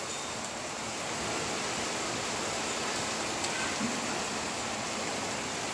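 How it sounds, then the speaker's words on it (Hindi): Heavy rain falls on leaves in Tulsi Park, Awas Vikas, Jhansi, a dense, even hiss that stays steady and moderately soft throughout with no voices. "और तेज़ होने लगा है बारिश"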